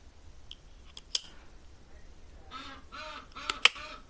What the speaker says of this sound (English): I love watching people click these toppers on